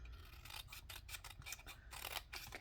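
Scissors snip through cardstock for a papercraft shadow box, making a run of soft, close cutting and rubbing sounds at a low level.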